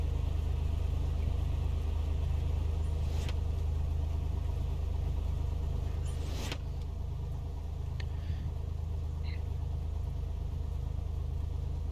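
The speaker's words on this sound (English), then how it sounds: "we're just going to let this engine warm up a little bit" A light aircraft engine idles while warming up in a flight simulator game, flying from Sonoma County toward Lake Tahoe; a steady low rumble drones on without change, with a couple of faint clicks over it.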